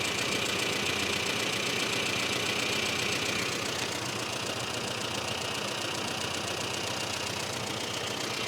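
A classic Mini's engine idles steadily at just under 900 RPM, running slightly lean, with a close, even mechanical churn and faint knocking rhythm.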